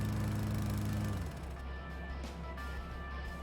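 A lawnmower engine in the Rising Star 2 video game drones low and steady for about a second, then cuts out. A quieter, hissy background remains after it stops.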